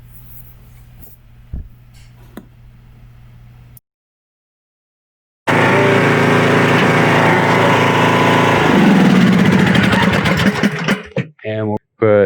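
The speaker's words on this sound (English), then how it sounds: "this is the Lowe's exclusive Craftsman T140 tractor" Engine of a Craftsman T140 automatic riding mower tractor, a Lowe's exclusive, starts after a quiet stretch with a low hum and a gap, then runs loud and steady with rising revs before cutting in and out near the end.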